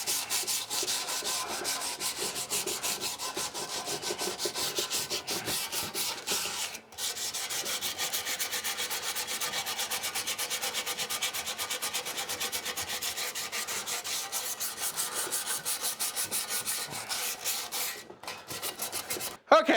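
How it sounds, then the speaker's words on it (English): Continuous rough rasping of 80 grit sandpaper worked by hand over metal engine headers on an 86 C30, steady and close for nearly twenty seconds with one brief pause, no talking. "I guess we start sanding. Now, I just got some 80 grit here."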